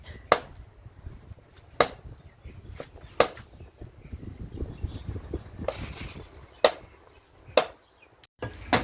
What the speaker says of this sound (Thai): เดี๋ยวมาหั่นนะครับ ชิ้นเป็นชิ้นนะครับ